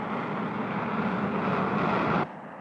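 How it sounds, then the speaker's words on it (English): A P-80 Shooting Star's kerosene-burning jet engine roars as a steady, loud broadband rush that drops off abruptly near the end. "the new knife-edged wing and its powerful kerosene-burning jet engine"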